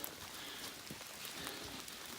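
Rain falling on the Appalachian Trail, a soft, steady patter of drops hitting surfaces nearby, faint and continuous throughout with no voices.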